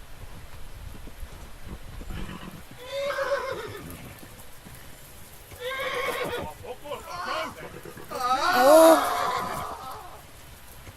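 In the game Kingdom Come: Deliverance, a horse gives several loud, wavering neighs and whinnies, with hoofbeats audible under them and a brief exclamation from a voice.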